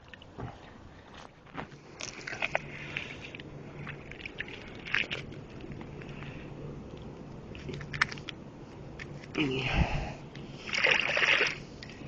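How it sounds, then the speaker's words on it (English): A rake stirs oily swamp water, giving close sloshing splashes and gurgles with scraping knocks, building toward a louder churn near the end. "I'm going to take my rake. I'm sitting on a log right now, and I'm going to switch it around a little bit, see if I can stir it up"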